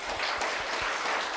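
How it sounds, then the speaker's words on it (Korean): Church congregation applauding to welcome a newly registered family during a Sunday service, a steady dense wash of clapping filling the room for the whole moment. "박수로 환영하겠습니다."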